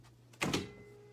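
A flimsy storage closet door moves with a quick double rattling thud, short and fairly close, over a faint background hum.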